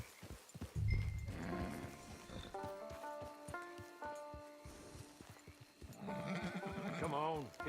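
A horse in the video game Red Dead Redemption 2 clops along and gives a whinny near the end, with game voices and sounds around it.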